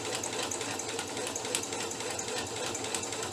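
Sewing machine running a short back stitch at the end of a paper-pieced seam, a quiet rapid mechanical whir with faint ticking.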